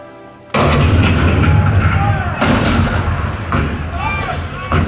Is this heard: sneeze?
no